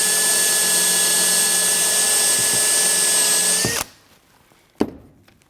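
A power drill boring a pilot hole through a sill into a polyfiber door jamb, a loud steady whine for nearly four seconds that cuts off abruptly, followed by a single sharp knock.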